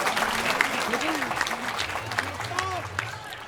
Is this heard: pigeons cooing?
no